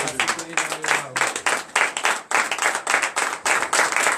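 A standing congregation claps in steady, loud rhythmic acclamation during a morning prayer service in Benin, the beats evenly spaced and continuous, with a brief voice or sung tone at the start.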